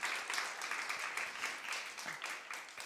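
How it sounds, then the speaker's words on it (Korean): A church youth congregation claps in blessing for two brothers, a steady wash of many hands applauding together that stays fairly even for about three seconds. "우리 두 명의 형제들에게 너무 고생했다고 우리 축복의 박수를"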